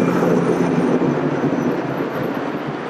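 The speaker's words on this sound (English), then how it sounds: "I'm talking loud because the oven's a little bit loud" A loud pizza oven roars steadily nearby, a constant broadband rushing drone with no breaks.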